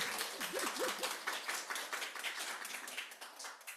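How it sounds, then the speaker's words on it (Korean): Faint clapping from a church congregation, a soft patter of many hands continuing throughout, with a brief voice near the start. "고항이님이 아주 크게 박수를 치셨습니다"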